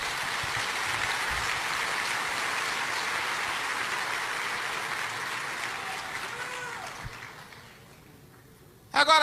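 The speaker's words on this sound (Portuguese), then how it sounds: "Se é para aplaudir, aplauda com vontade," A church congregation applauds steadily, a dense, loud wash of clapping that holds for most of the time and then fades out toward the end.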